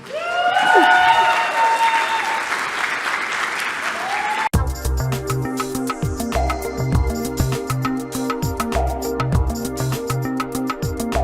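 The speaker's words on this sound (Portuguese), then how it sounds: "Dá uma salva de palmas para Camila." Applause from a live talk audience rises under a speaking voice, then gives way to strong rhythmic background music with a thumping beat.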